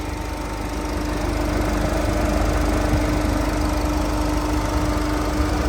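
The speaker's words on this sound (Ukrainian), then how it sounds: "Ось так працює двигун, все чітко, рівненько" A steady, loud 2.0 diesel engine in a Renault Koleos 4x4 idles continuously under the hood with an even, rumbling hum and a faint mechanical clatter, no speech.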